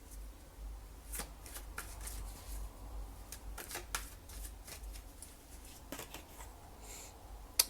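Tarot cards being handled and drawn from a deck, a soft run of crisp flicks and riffles close by, quiet and alone.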